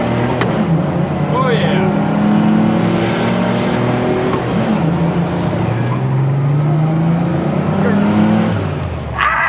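A passenger car carrying five people accelerates on the road, its engine note climbing steadily in pitch through repeated gear pulls, loud and close from inside the cabin, with a brief spoken exclamation over it.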